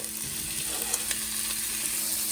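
Tomatoes frying in a hot pan for pav bhaji, giving a steady close sizzle with faint stirring clicks, no talk.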